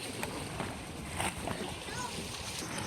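Children splash while bathing in the sea at high tide along the shore of Barotac Viejo, Iloilo, a steady broadband wash of water and surf with scattered sharper splashes throughout.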